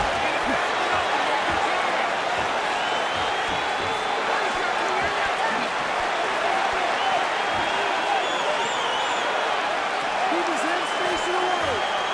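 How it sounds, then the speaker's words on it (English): A loud, continuous roar of a crowd cheering at a UFC fight, filling the whole stretch evenly with a sustained wash of noise. "this crowd is loving it, Mike."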